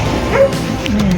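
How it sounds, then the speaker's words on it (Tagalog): Dogs at a home in Baguio yipping and barking in short bursts, close and fairly loud, with whimpery rises in pitch between the barks. "balikan natin yung mga aso maingay"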